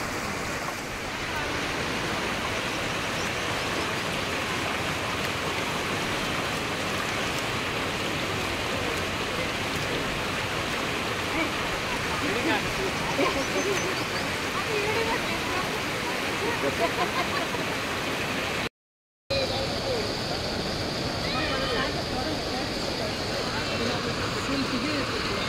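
The Pravara river rushes and gurgles in a dense, continuous roar close by, steady throughout apart from a brief dropout.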